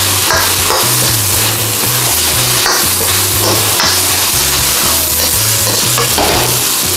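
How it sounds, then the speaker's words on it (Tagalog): Bean sprouts and chow fun noodles are stir-fried in a hot pan with a loud, continuous sizzle. Repeated scraping and clanking strokes of the stirring utensil beat against the pan close up throughout. "After black pepper, pwede natin ilagay ang ating bean sprouts."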